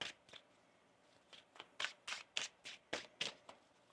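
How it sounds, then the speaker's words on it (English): A deck of tarot cards being shuffled by hand, about nine quick riffling bursts in an uneven rhythm, close and soft in a quiet room with no talking. "One more shuffle"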